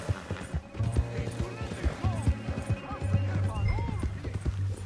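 Horse hooves clip-clopping in an uneven rhythm along with creaks of tack, close by, mixed with a low hum and brief vocal sounds as people talk over it in a Western scene.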